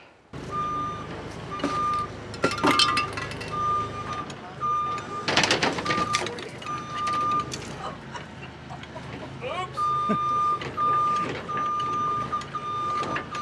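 An excavator drives over concrete forms while digging a grade beam excavation at a construction site, its engine rumbling under a repeating reversing beep, with clanks and scrapes of digging and people talking nearby.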